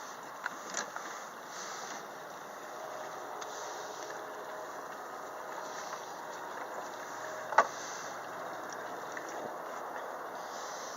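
A sailboat's inboard engine runs in forward gear on a trip through the Keys, giving a steady, fairly quiet drone with water wash and a few faint knocks.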